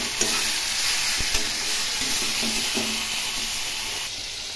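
Shankar fish curry stir-fried in a pan, a steady close sizzle with a high hiss and occasional soft scrapes of stirring, no voices.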